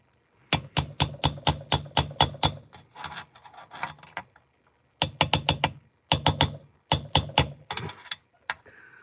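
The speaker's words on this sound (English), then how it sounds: "Having way too much fun with this hammer apparently right now" Metal hammer tapping during an oil seal replacement, ringing out in fast, evenly spaced bursts of sharp clinks with short pauses and some scraping between groups, close and loud.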